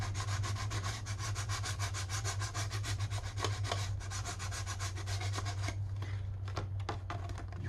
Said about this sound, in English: You sand it down to make sure all the edges are the same.